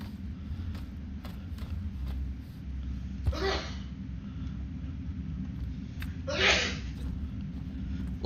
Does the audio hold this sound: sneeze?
yes